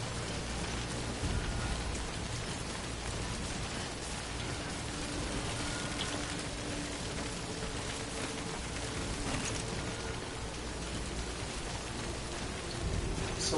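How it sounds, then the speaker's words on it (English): Steady rain pours throughout a stormy scene in the video game Death Stranding, a dense continuous hiss of falling drops that stays even and loud the whole time. "I haven't seen a cave that I can hide from this rain from."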